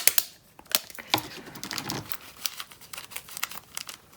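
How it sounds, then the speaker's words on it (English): Plastic bag being taped shut while making a DIY squishy: close crinkling and rustling of plastic with sharp snaps of tape, irregular and busy throughout, no talking. "and then you just tape it shut"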